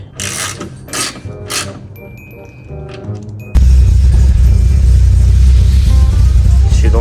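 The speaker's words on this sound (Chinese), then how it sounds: "启动了，有一点点 misfire" A Honda Civic FD2 engine, freshly reassembled with its gasket reseated, cranks and fires up with a slight misfire after a few quiet mechanical clicks, then runs loud and steady close by.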